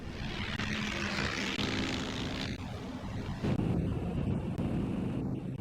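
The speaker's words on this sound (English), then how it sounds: "21 Swordfish torpedo bombers lifted off an aircraft carrier" Swordfish torpedo bombers taking off from an aircraft carrier in World War II, a sustained droning propeller engine roar with wind buffeting, fairly loud and continuous.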